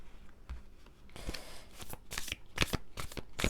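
Tarot cards being shuffled and drawn, quiet then a run of crisp riffling bursts and slaps close by, with no talking.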